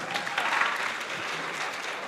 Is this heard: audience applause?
yes